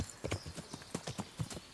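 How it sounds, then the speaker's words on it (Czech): Horse hooves galloping in the medieval video game Kingdom Come: Deliverance, a steady rhythmic clip-clop of repeated hoofbeats, fairly close and clear with no talk over it. "Já si zavolám koně na pomoc"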